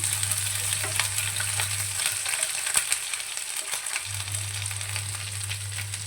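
Grated garlic and ginger stirred into hot oil, a continuous crackling sizzle with stirring scrapes, fairly loud and close, a low hum fading in and out underneath.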